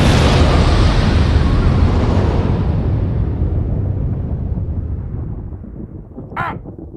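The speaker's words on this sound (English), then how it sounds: "Where my goddamn explosion?" Big explosion sound effect: an immediate loud blast that rumbles and slowly decays over several seconds, followed by a brief high crow-like caw near the end.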